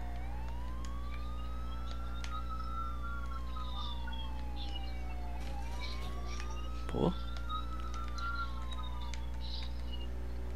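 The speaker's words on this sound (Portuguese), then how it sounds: "Vou desligar a sirene por enquanto" A police car siren in the video game GTA IV wails in slow rising and falling sweeps over a steady low engine drone. A voice briefly speaks over it.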